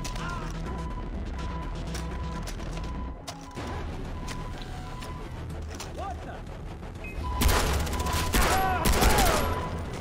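Sniper rifle fire in the video game Far Cry 3: loud, sharp cracking bursts crowd the last few seconds over a steady bed of in-game ambience and faint bird-like calls.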